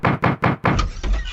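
Four quick, heavy knocks land on a door in an old radio drama, close and evenly spaced, followed by a brief muffled rumble.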